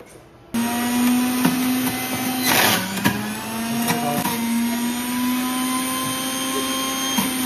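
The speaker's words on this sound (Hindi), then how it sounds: "और ये सुजाता का मिक्सर जूसर ग्राइंडर है, जो हमारी रिसेंट परचेज है।" A Sujata mixer juicer grinder switches on abruptly and runs with a steady, loud motor whine while juicing carrot and beetroot, with occasional clunks and rattles from the jar as it spins.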